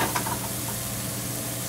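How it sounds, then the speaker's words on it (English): Vegetables sizzle steadily as they sauté in a hot pan, a dense, continuous frying hiss with a few faint stirring clicks near the start, close and loud, with no talking. "we don't want to saute it too much until it's dry"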